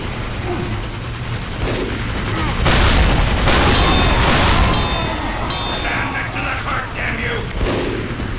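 A Roblox TF2-style battle produces mechanical clanks, ratcheting clicks and gunshots with a couple of heavier booms, loud and close, with voices underneath.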